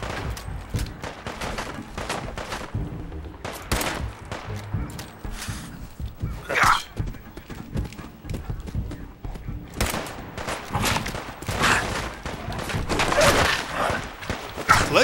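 Bolt-action sniper rifle shots in Fallout 4: separate sharp cracks spaced seconds apart, each followed by softer handling clatter and footsteps, near and fairly loud, with no one speaking.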